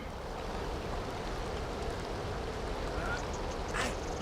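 A parrot squawks a few times on a castaway island in the PS2 game The Sims 2 Castaway. The harsh calls are fairly close and sit over a steady wash of surf and ambient noise.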